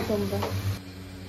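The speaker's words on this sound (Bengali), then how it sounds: "আর এদিকে আমার কাল্লা ভাজা হচ্ছে।" Bitter gourd fries in a pan in a home kitchen, a brief close sizzle with a stirring scrape, partly under a voice at the start.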